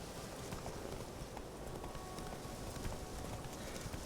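Horse hooves clip-clop at a steady ridden pace in The Witcher, a continuous moderately loud patter over soft game ambience.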